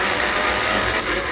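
A Castle Creations RC motor running at full throttle on a 12S LiPo pack in its lowest, super slow mode, giving a steady, loud, dense whine and hum that holds evenly for the whole moment, with no talk over it.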